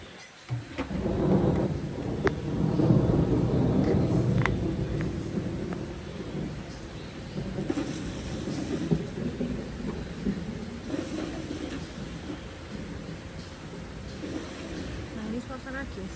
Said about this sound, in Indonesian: ini suasana di Eskavan saat turun hujan ya guys